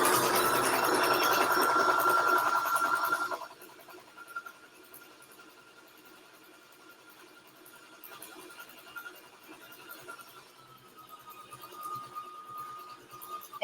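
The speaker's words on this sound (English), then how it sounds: "This is where I'm sewing down the middle, and I'm using my guide on my machine to guide it down the middle" A sewing machine runs loudly, stitching down the middle of crepe paper strips for a junk journal; the steady whir stops after a few seconds, leaving quieter handling sounds and faint hum.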